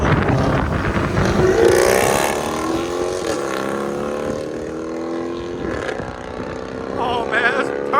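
A Jeep Grand Cherokee with a 5.7L HEMI V8 and straight-pipe exhaust pulls hard on an open road, its loud, rising engine roar climbing through the revs, then briefly easing and surging again close by.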